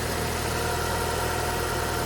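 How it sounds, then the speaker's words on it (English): The 2004 Nissan Micra K12 engine idles with a steady, even low hum and no variation, heard up close and alone. "Engine is nice and quiet."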